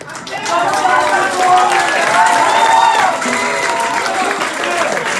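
Audience at a punk concert applauding with scattered cheers and whoops; a dense, loud wash of clapping runs throughout, with a voice speaking over the crowd.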